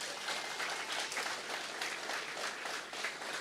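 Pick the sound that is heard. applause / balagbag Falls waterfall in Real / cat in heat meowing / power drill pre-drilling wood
applause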